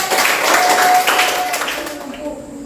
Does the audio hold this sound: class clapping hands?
yes